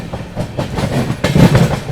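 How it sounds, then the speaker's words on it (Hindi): Rajdhani Express passenger train rolls past at close range while overtaking the GT Express near Mathura, a loud continuous rumble with repeated clickety-clack of wheels over rail joints. "तो GT को यहाँ पर इस प्रकार से ओवरटेक करके निकल रही है अभी अपनी राजधानी एक्सप्रेस।"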